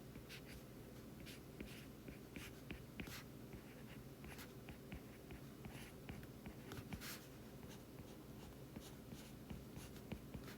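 Pen or marker writing by hand on paper while working an economics practice problem, a steady quiet stream of short scratchy strokes and taps continuing throughout with no talking.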